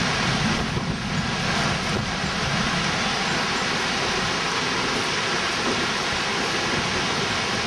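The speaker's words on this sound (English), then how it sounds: "Oh, that rain's cold." Heavy storm rain pours down steadily amid high winds during a tornado warning, a dense, constant hiss with wind buffeting the microphone throughout and no voices.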